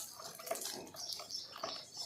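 Water splashing and spattering over a bicycle being washed, a continuous wet hiss with a few sharper splashes and no clear speech.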